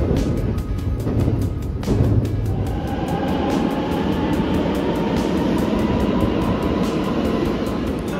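A train on the Japanese rail network rumbles along steadily, a low continuous roar with rattling and faint squeals, nearby and unbroken, no voices.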